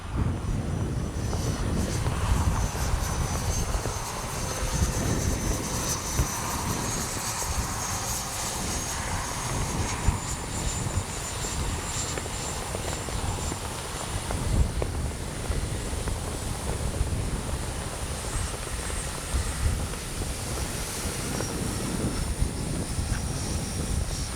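An Arrows 64mm Marlin RC jet flies in strong wind, its ducted-fan whine drifting steadily overhead beneath heavy, continuous wind buffeting that fills the whole stretch.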